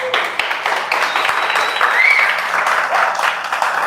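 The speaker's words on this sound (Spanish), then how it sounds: "Denle un aplauso al Señor." A church congregation applauding during a sermon, a loud sustained wash of many hands clapping at once, close and even throughout, with faint voices mixed in.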